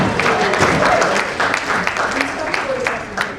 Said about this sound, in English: Can I have a louder clap?